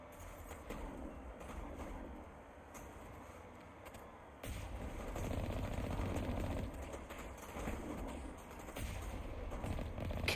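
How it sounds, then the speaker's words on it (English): Cannon fire pounds towers in Mass Effect. Heavy, rumbling bursts of weapon fire run continuously and grow louder partway through, with no talking. "God, I love shooting the cannon into the towers."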